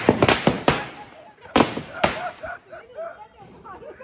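Firecrackers burst at night during a Bhau Beej family celebration in Thane, giving several sharp, loud cracks in quick succession early on, then two more bangs. Voices chatter afterward.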